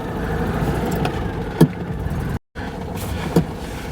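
A car engine running steadily up close, a constant low rumble with a couple of brief knocks and a short dropout.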